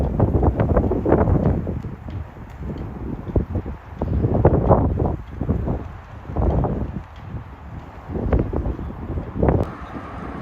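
Strong wind at a viewpoint by the Golden Gate Bridge, San Francisco, buffets the microphone in loud, gusting rumbles that rise and fall throughout, with faint background noise beneath.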